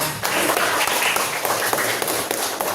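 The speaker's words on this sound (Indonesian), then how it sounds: "Oke, tepuk tangan buat." A class of junior high school students claps together in a classroom, a dense, steady patter of many hands lasting a few seconds at moderate volume.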